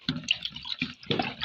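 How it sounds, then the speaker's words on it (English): Water is poured into a thick homemade Izal-style liquid disinfectant, making close, irregular splashing and glugging in short uneven bursts with no talking. "So I'll just add my 4 liters of water"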